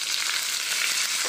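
Curry leaves sizzling in hot oil in a pan as chutney is stirred in, a steady close hiss with faint scraping of the stirring and no talking.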